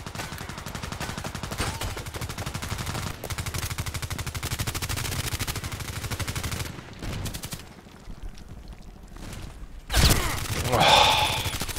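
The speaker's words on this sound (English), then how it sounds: "I have no idea who is shooting at whom." Rapid automatic gunfire from the Contract Wars shooter game, dense bursts rattling for about seven seconds, then a brief lull and a louder close burst with ringing echoes near the end.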